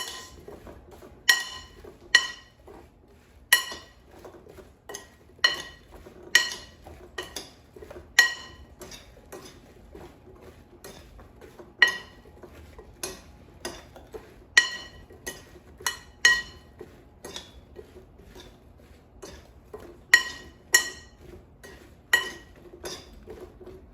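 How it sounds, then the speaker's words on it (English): Sliced zucchini and squash are tossed with oil and seasoning in a bowl, giving repeated light clinks and knocks in an uneven rhythm, close and clear with no talk. "And now I'm going to toss it so it's coated with oil and seasoning."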